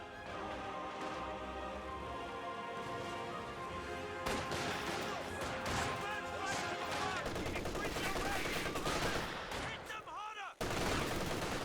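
Battle gunfire from Company of Heroes 2 fills the scene as rapid machine-gun bursts and scattered rifle shots crackle densely over distant explosions, loud and continuous, with brief gaps before the firing resumes.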